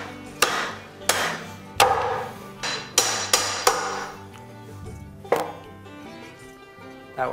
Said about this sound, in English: So we're chopping up the bones.